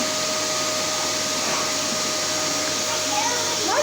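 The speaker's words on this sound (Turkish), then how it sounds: "Daha bitmedi babası, evi süpürüyor." An electric vacuum cleaner runs through a house with a loud, steady motor roar and a constant whine, while a voice briefly rises near the end.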